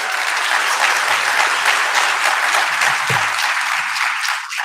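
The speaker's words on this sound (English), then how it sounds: "Let's give that a round of applause." A crowd applauds steadily, a dense wash of many hands clapping that holds strong before tapering slightly at the end.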